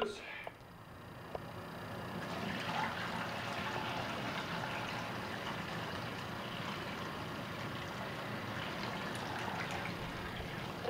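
Hot water runs from a tap in a steady, even rush that starts after a short pause and carries on without a break, heard indoors at a moderate distance.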